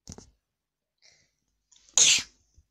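A single loud, close sneeze bursts out after a few faint breaths and small rustles, with a short quiet tail afterward.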